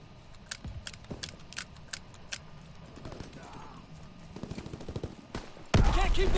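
A gold combat shotgun loaded with fire shells blasts away in a WW2 video game; sharp shots arrive at irregular intervals amid battle noise, ending in a loud, dense burst of fire.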